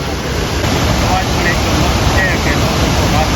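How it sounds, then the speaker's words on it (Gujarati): Rushing water at Jamjir waterfall in Gir, a dense, constant roar filling the scene, with faint voices briefly audible beneath the steady wash. "અને આ ભાઈ મોતનો ધોધ પણ કહેવામાં આવે છે"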